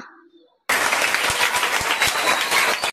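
An audience applauds a child's storytelling, a sudden burst of dense, loud clapping that holds steady for about two seconds and then stops abruptly, following a brief moment of speech.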